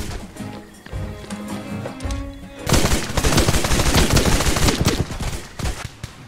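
Rapid bursts of gunfire in the pirate battle game Blazing Sails, a 10vs10 Galleon Conquest match, start sparse under game noise and turn into a loud, dense volley of overlapping shots for the second half.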